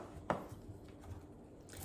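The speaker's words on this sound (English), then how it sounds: "This cauliflower is going to go into the food processor. So I just need to chop it up so it's small enough to fit." A knife chops through a head of cauliflower on a cutting board, one sharp crisp strike near the start followed by quiet handling, close and clear with no talking.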